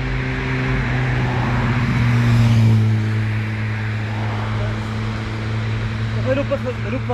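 Cars drive past on a street in a steady, fairly loud low engine and tyre rumble, with people talking over it.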